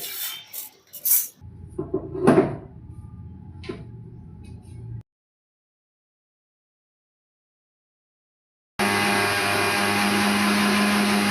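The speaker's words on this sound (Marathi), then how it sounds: "मिक्सरच्या छोट्या भांड्यामध्येच हा मसाला ग्राइंड करायचा आहे कारण छोट्या भांड्यामध्ये छान ग्राइंड होतो बारीक" Masala spices ground in the small jar of a kitchen mixer grinder: a loud, steady motor whir with rattling, starting and stopping between short bursts, with brief handling knocks before it begins.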